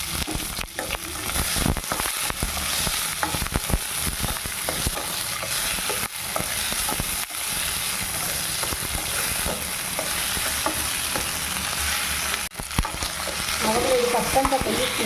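Tomatoes frying and being stirred in a steel pan with onion and ginger, a steady close sizzle with frequent scraping stir strokes throughout, no talking.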